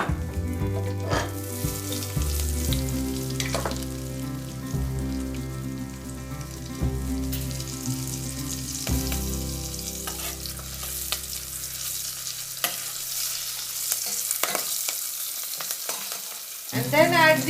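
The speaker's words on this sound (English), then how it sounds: "Once the cumin seeds starts to splutter, add the curry leaves and green chilies." Cumin seeds, curry leaves and green chilies sizzle and crackle steadily in hot oil for a pav bhaji base, a continuous close frying hiss over background music.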